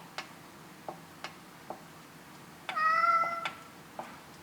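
A cat lets out one clear, tonal meow midway through a workshop session where buttons are being cleaned and magnets glued, among sparse sharp ticks and clicks of work on the bench.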